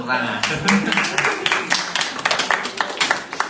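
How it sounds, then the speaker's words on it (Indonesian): A class clapping hands together during a lesson, a run of loose, uneven claps fairly close, with voices mixed in. "Oke, tepuk tangan."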